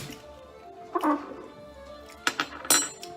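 Teacups clink together in a toast in a home kitchen, a few bright ceramic taps near the microphone, with a faint earlier clatter and otherwise quiet surroundings.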